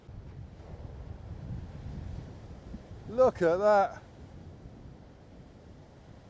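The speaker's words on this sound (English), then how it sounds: "So even with the southwesterly wind, you're still getting battered with these massive waves." Massive ocean waves crash against the Irish coast under a southwesterly wind, with steady surf roar and heavy wind buffeting on the microphone, while a voice briefly speaks over it midway.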